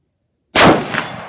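A single rifle shot fired from the standing position in a three-position rifle drill, a sharp, loud crack after a moment of silence that rings out and decays quickly.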